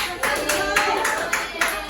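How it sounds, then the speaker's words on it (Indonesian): Students in a classroom clap together in a quick, even rhythm of bursts for a couple of seconds. "Oke, boleh tepuk tangan tuh."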